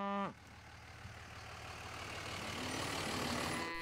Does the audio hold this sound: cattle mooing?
yes